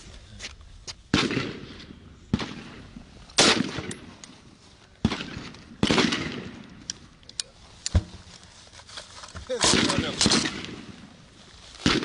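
Gunshots from a shooter firing at a target during weapons training, a series of sharp, loud cracks at irregular intervals, some in quick pairs, with brief echoing decay between them.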